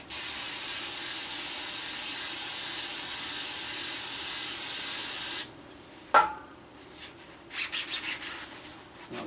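Brake cleaner sprays from an aerosol can onto a John Deere 2032R compact tractor part in a long, steady, loud hiss, then stops and is followed by a sharp knock and a few short bursts.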